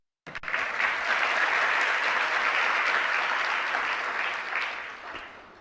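A crowd at a Jain religious discourse by Acharya Vidyasagar bursts into applause, steady and full for several seconds, then gradually thins out toward the end.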